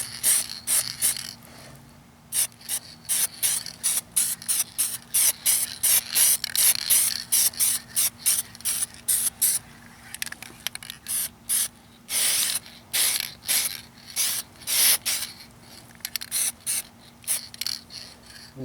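Short bursts from a spray can lay a first coat of car paint, hissing in irregular repeated pulses close by, with brief pauses between sprays.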